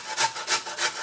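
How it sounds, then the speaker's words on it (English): Carrot rubbed over a grater while making spring egg rolls, three or four quick rasping strokes, close and loud. "The only thing that I don't like about this is that because I'm shredding the carrot"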